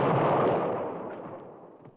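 A bomb blast in a 1960s comedy film, one loud, heavy boom that rolls off and fades over about two seconds.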